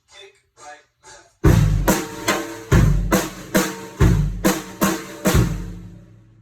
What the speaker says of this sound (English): So that's my kick and my snare